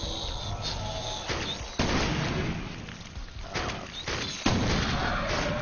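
Gunfire in the shooter game Defiance, a run of sharp shots and bursts with echoing booms, loud and close, repeating irregularly over a rumbling background.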